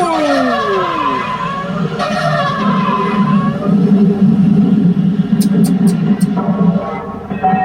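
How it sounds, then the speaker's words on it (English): A race car takes a corner far too fast and skids off the track, with a steady engine rumble, a sliding tyre whine and scraping noise that stays loud throughout. "he's coming to that corner way too fast. Oh no, he is off the track"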